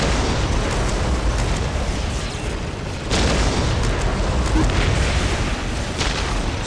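Rumbling artillery blasts from a Whirlwind missile battery in Warhammer 40,000: Dawn of War, a steady roaring wash of explosions with a sharper boom near the middle and another toward the end.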